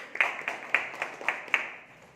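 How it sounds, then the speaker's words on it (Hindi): A small audience claps for a guest named Azad at a Pearlvine International meeting, a thin, sparse round of applause with a few distinct claps standing out, fairly near and fading quickly. "तो सर एक बार आजाद सर की भी ताली हो जाए।"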